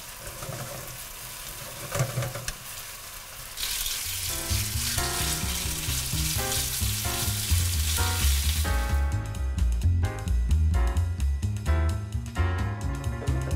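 Chicken pieces sizzle loudly in a hot pan as honey sesame sauce is poured over them, the frying growing steady and dense after a quieter start, with occasional stirring clatter.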